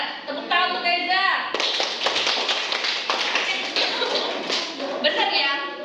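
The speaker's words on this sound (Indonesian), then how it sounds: "Tepuk tangan untuk Reza." Children in a classroom break into brisk applause after a teacher speaks, a dense patter of many small hands clapping for several seconds, with voices heard at the start and end.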